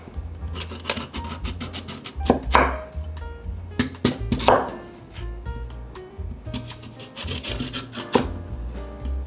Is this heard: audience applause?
no